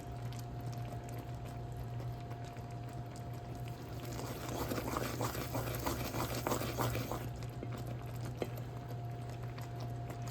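Peanut brittle sugar syrup boils in a pot while being stirred, slowly heating toward 300 degrees: a faint, continuous bubbling and popping that grows a little busier in the middle.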